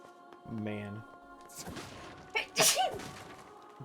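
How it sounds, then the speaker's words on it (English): A single short, sharp sneeze from a person, close to the microphone, amid quiet background game music and a few soft clicks and thumps. "Bless you."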